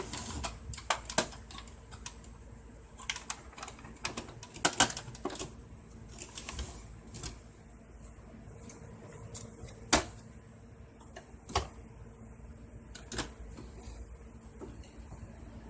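A Canon MP287 inkjet printer, being repaired for an E03 error, runs through a test with irregular mechanical clicks, ticks and brief whirring bursts over a steady low hum, with no talking.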